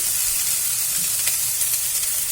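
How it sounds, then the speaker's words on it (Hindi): Ground tomatoes frying in a pan for dal makhani, a steady close sizzle and hiss throughout with no talking. "अब इसमें हम 2 पिसे हुए टमाटर डालेंगे।"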